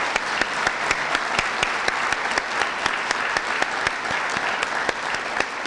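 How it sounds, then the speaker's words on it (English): Audience at a senior citizen hall of fame ceremony applauds its inductees, a steady, full round of clapping across the hall with no talking. "So could we please give all of our inductees a well-deserved round of applause"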